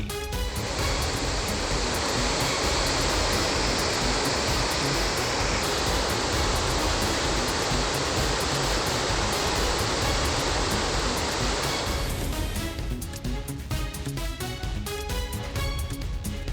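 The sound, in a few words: water rushing from Mettur dam floodgates release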